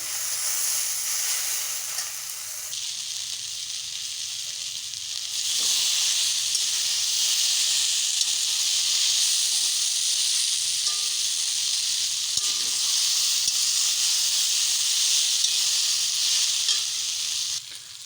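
Eggplant sautés in a hot pan, a steady loud sizzle and hiss that swells a few seconds in and holds continuously, with faint stirring and no talking.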